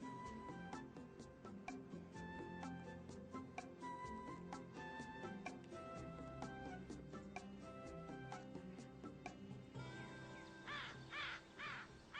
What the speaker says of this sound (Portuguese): Corvos que gritam juntos, andam juntos.